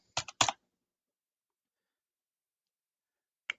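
A computer keyboard is typed on at a terminal: two quick clusters of keystrokes, a long silence, then a single isolated key click, close and dry with no voices.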